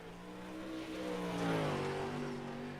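A modified race car runs on the dirt oval at Eldora Speedway during a touring series race, its engine a loud, steady drone that swells to a peak midway and then holds, with no talk over it.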